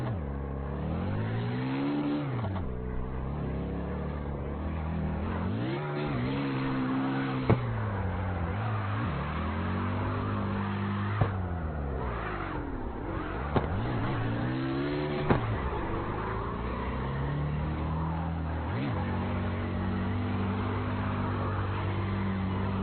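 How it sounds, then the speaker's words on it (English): A car engine in CarX revs up and down repeatedly, whining pitch climbing with each pull and dropping on shifts, with occasional sharp clicks between. "listen to that turbo spool"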